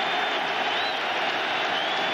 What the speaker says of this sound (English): Crowd again, getting into it.